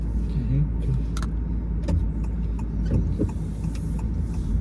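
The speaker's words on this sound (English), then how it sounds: "Today we're in a Honda Jazz." Road noise from a moving Honda Jazz automatic car, a steady low engine and tyre rumble running throughout, with occasional clicks and light rattles inside the cabin.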